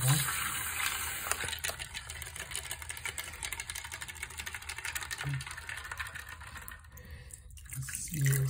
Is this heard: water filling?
yes